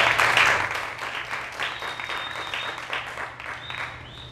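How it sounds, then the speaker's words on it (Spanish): An audience applauds a performer at a live science stand-up monologue show, dense clapping that peaks early and then continues steadily with slight swells, fairly close and full, with faint whistles or cheers mixed in. "un fuerte aplauso, nuestra estrella del grupo"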